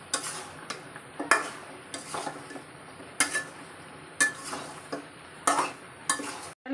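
Beef with spices fries in a pan while being stirred, producing irregular scraping clatters and clinks of a utensil against metal over a quiet sizzle.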